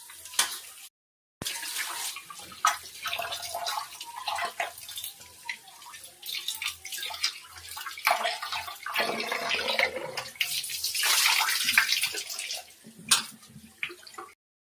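Running water rinsing a kilogram of raw chicken for a home chicken biryani, a steady splashing flow with gurgles and brief drips, broken by a short pause near the start, with no talk.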